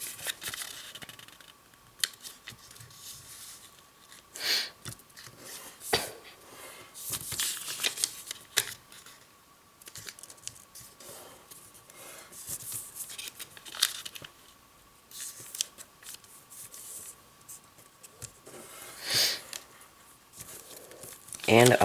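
Paper for an origami pyramid tessellation is folded and creased in quick, crisp rustles and crinkles, close up, with a person talking over the handling and a faint steady tone underneath.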